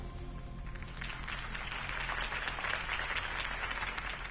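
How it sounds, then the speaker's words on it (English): Crowd applause in the Telltale Batman video game, a dense, steady wash of clapping that swells slightly and holds throughout at moderate loudness, with no voices. "could have heard that applause"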